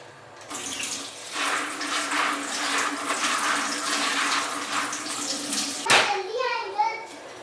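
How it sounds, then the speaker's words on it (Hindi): A cup of water is poured from a tap-like stream into a pot of black chickpea curry, a steady splashing rush lasting several seconds that ends abruptly, followed by a few faint knocks. "इसमें मैं 1 कप पानी ऐड कर रही हूँ"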